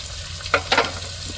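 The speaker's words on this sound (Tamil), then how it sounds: "இப்போ மசாலா பொடி, மஞ்சத்தூள் சேர்த்துக்கிடுவோம்." Masala powder and turmeric hit hot oil in a pan of curry with curry leaves, chillies and tomato, giving two short, close sizzling bursts over a low background hum.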